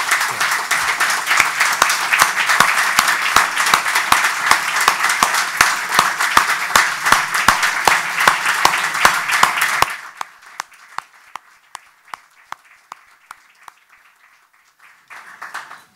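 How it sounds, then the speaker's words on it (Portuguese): Audience at a formal ceremonial session applauding, a dense loud wash of clapping for about ten seconds that stops abruptly, leaving a few scattered claps and a quiet room. "uma enorme salva de palmas para estas duas"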